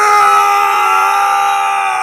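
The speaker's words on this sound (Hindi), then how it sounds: "तभी पीछे से एक तेज चीख गूंजी।" A loud, sustained high-pitched scream rings out behind the listener in a dark, damp place lit only by a torch, steady and piercing for about two seconds.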